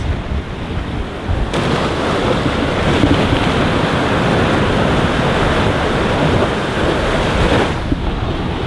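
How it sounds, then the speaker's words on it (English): Ocean surf washes steadily onto a Hawaiian shoreline in the splash zone, a continuous loud roar of breaking waves with wind buffeting the microphone, and no voices. "Any waves on the shoreline is going to sneak up on you"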